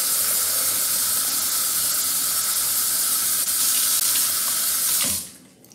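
Water runs hard from a kitchen tap into a pot for butternut squash and turnip soup, a loud continuous rushing hiss that cuts off abruptly near the end.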